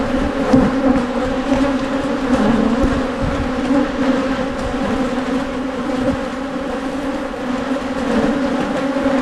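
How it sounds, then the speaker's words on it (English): A dense, steady hum of many honey bees buzzing around an open hive during an August inspection, loud and continuous throughout with no voices. "Lots of bees, lots of bees."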